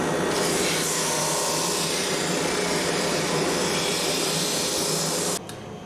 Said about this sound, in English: Next I'm going to pass the thin board through the sander.